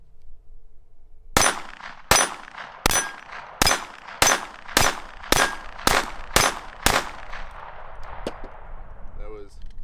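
Ten sharp .22LR shots from a Ruger LCP II Lite Rack pistol fitted with a Galloway Precision spring kit, cracking out one after another at a steady rhythm with a brief ringing tail, followed by quieter handling.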